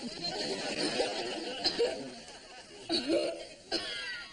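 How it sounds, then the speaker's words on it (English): A few short, rough coughs break through amid murmuring voices and light chatter, moderately close. "Are you taking anything for that cough?"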